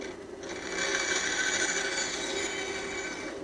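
A bandsaw cuts through wood with a steady, close rasping whine that rises after a brief quieter start and holds evenly to the end, with no talking.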